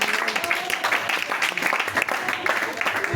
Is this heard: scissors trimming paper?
no